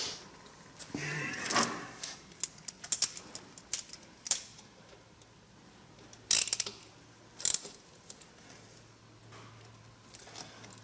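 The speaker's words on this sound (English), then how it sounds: "Now I just put the bolts in." Bolts being fitted into a Harley-Davidson starter motor: scattered small metallic clicks, ratcheting and clinks of tools and hardware, close and fairly quiet, with brief louder clatters and a low hum between.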